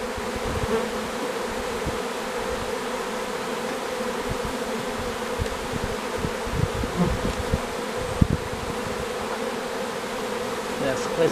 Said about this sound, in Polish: Teraz kwestia, żeby pszczoły przyleciały do tej matki.